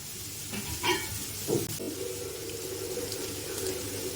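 Tap water runs steadily into a container being filled, a constant close splashing hiss with a couple of brief clanks near the start.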